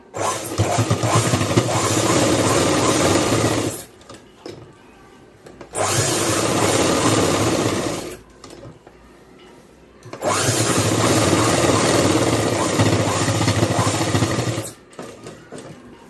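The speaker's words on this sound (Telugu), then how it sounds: "జోబు మొత్తం కుట్టు వేసేసిన తర్వాత మళ్ళీ ఇంకొకసారి ఇంకొక కుట్టు అనేది వేసుకోండి" Sewing machine stitching a pocket onto a school uniform skirt, three long loud bursts of steady whirring separated by short quiet pauses, close and alone.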